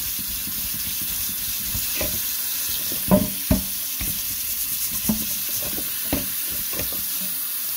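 Wet scrubbing and rubbing of a soapy Sonim XP8 rugged phone under running water, with faucet hiss throughout and a few sharper squeaks and knocks in an irregular rhythm; no one speaks.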